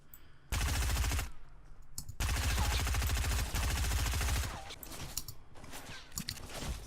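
Assault rifle fire in a shooter video game played with keyboard and mouse. Loud, rapid bursts crackle close up, first one short burst and then a longer sustained stretch, followed by scattered lighter clicks.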